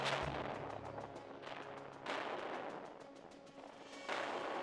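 Artillery fire in the radio-commanded war game Radio General, with guns shelling a target town: three heavy booming volleys about two seconds apart, each trailing a crackling, rumbling decay, distant and fairly faint, with no talk.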